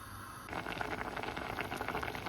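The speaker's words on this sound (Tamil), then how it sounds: "இது அவியட்டும்." Bitter gourd with green chillies boils in water in a pot on the stove, a close, steady bubbling that rises abruptly after a brief quiet start and continues evenly, with no voices.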